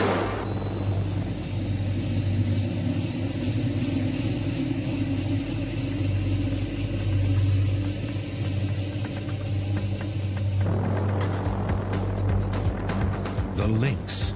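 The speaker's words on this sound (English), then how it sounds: "The helicopter is the ultimate flying machine." A helicopter flies overhead, giving a loud continuous engine rumble with a steady low throb and rising whine, shifting in character near the end, with a voice talking over it.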